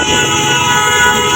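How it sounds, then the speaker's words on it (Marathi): Vehicle horns honk continuously in dense, crowded traffic, several overlapping toots blending into a loud, unbroken din with steady traffic noise underneath. "आणि नुसते हॉर्न वाजवायचे बघा"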